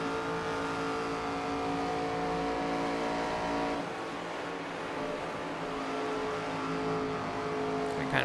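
Race car engine in the video game NASCAR 25, a steady loud droning V8 hum with tonal whine, the throttle eased briefly midway before the pitch resumes, heard alone without talk.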